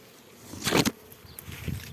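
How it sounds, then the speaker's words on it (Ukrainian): A swarm of bees gathered on a tree, buzzing close by with a brief loud swell of wingbeats and rustling, then quieter scattered buzzing and light movement. "ось який гарний рій"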